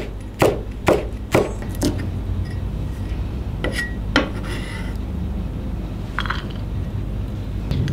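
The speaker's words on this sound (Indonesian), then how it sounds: "ini ada 2 batang seledri, kita rajang halus" Two celery stalks being finely chopped with a knife on a board, with a quick burst of four sharp chops, a pause, then two more distinct knocks amid quiet kitchen background noise.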